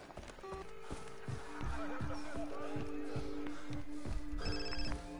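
A telephone rings with repeated electronic tones in the video game Far Cry 3, over a busy bed of in-game ambient sounds.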